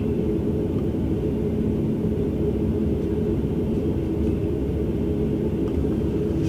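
Twin turboprop engines of an ATR72-500 in the Prepar3D v5 flight simulator hold a steady, low, droning rumble at constant level, heard alone without speech.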